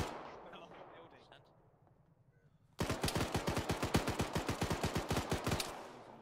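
Rapid automatic gunfire in a combat video game: after a stretch of quieter ambience, a loud, evenly spaced burst of shots suddenly starts and rattles on without pause.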